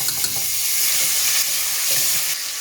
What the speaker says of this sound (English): Now I'm going to add some garlic ginger paste.